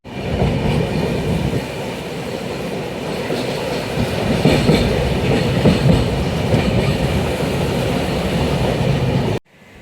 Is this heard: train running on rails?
yes